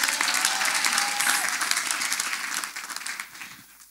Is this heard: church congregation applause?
yes